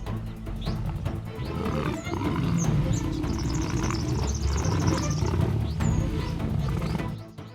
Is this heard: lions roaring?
yes